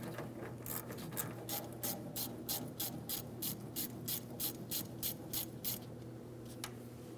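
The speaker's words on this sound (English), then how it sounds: "We're using an 8 millimeter for this clamp." An 8 millimeter ratchet loosening the fuel filler hose clamp on a 2007-2014 GMC Sierra 2500 HD 6.0L V8, about a dozen evenly spaced close clicks over a low steady hum.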